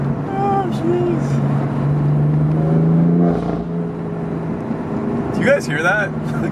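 BMW F8X exhaust after a secondary cat delete, revving and rumbling through downshifts while driving, loud and close under steady road noise, with a person talking over it and a brief whistly rise near the end.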